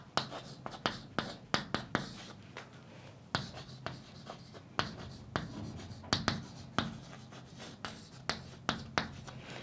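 Chalk or marker tapping and scratching on a board during a linear algebra lesson on determinants, in a steady series of short, sharp strokes and taps with quiet room tone between them.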